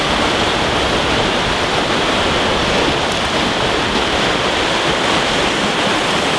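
Rushing river current and breaking waves on the Elk River near Fernie, BC, a loud, steady wash of whitewater filling the whole span with no pauses.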